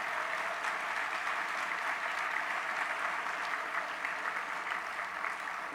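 Audience applause fills a church conference hall at the Great Plains Annual Conference: dense, steady clapping from a large crowd that runs evenly throughout, moderately quiet and somewhat distant.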